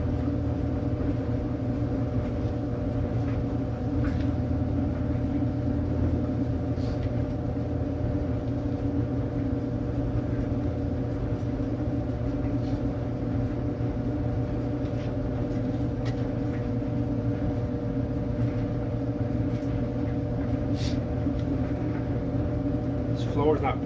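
A clothes dryer drum, just repaired with a new idler pulley bearing, spins on the regular, more-dry setting and gives a steady, even rumbling hum with a low tonal drone throughout, close and continuous.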